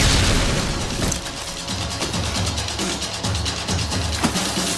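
A grenade detonates in a Max Payne 3 cutscene: a loud, close, broadband blast with deep low rumble that holds heavy and dense through the whole stretch, with scattered crackling debris on top.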